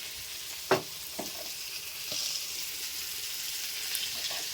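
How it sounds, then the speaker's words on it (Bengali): Ground spice paste sautés in a pan with a soft, steady sizzle at low volume, broken by a few sharp stirring clicks and scrapes, with no talk. "মশলাটা দিয়ে এবার কষিয়ে নিই।"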